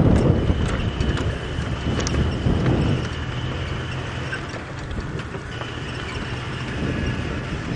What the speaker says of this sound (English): with all this wind that we're experiencing at the moment